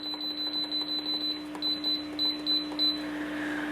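An Instant Pot's control panel gives a run of short, high electronic beeps, about a dozen evenly spaced presses as pressure-cook settings are keyed in, fairly loud and close over a low steady hum.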